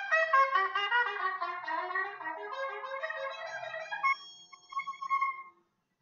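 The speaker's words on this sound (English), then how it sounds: "a trumpet is an instrument because it is a tool to make a sound like this." A trumpet plays a short melodic phrase of several clear notes, fairly soft and alone, with no talk.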